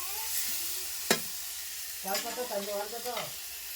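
Onion, tomato and curry leaves fry in oil in a pan, a continuous close sizzle with a sharp clack of a spoon against the pan and a few scraping stirs, while someone talks over it.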